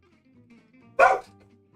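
A single sharp dog bark rings out nearby in an otherwise quiet room, brief and loud against a faint background hum.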